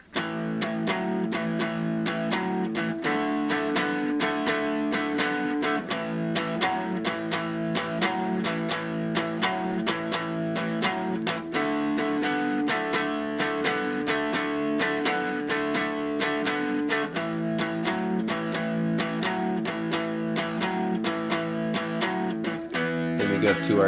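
Electric guitar plays a cut boogie shuffle in A in a driving, steady rhythm with repeated chord stabs, sustained loud and continuous for the full length, with no talk.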